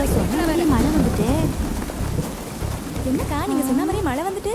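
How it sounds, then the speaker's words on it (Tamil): Steady heavy rain with low rumbling thunder in a village setting, the downpour continuous and close throughout while people talk over it. "மழை வந்துட்டு"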